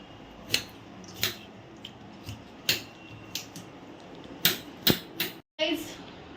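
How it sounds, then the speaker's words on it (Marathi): Coconut pieces being cut with a knife while preparing ukdiche modak: sharp irregular chopping clicks and cuts, close and moderately loud, spaced across the stretch with a brief silence near the end. "मी कापते खोबरं जे एक दोन नारळ फोडून घेतले आहेत"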